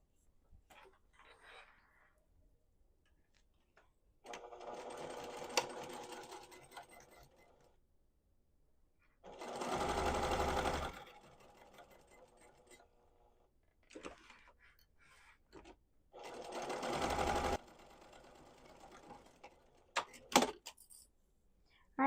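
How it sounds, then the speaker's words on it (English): A sewing machine stitches apron pockets in two short, fairly loud bursts, with a person talking in the stretches between. "put your presser foot down and sew"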